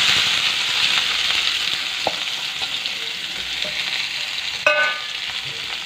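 Chopped tomatoes sizzling in a pan with panch phoron spices for a sweet Bengali tomato chutney; a steady hiss of frying throughout, with a few soft utensil taps and a brief clatter of stirring near the end.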